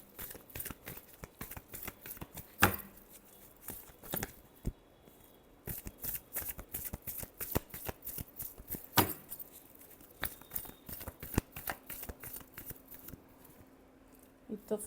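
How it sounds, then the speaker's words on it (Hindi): Tarot cards being shuffled by hand: steady quick rounds of crisp riffling and flicking, with a few sharper snaps, close and fairly quiet, with no voice over it. "last shuffle"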